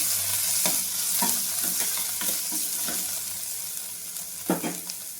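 Bitter gourd fry with onion, tamarind and red chilli stirred in a hot pan: loud continuous sizzling with repeated spoon scrapes and clacks against the pan, close by, no talking.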